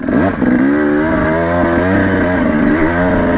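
A KTM 300 two-stroke dirt bike screams hard in fourth gear during a power wheelie, its loud, steady, buzzing exhaust note rising as the power valve opens, close and continuous throughout.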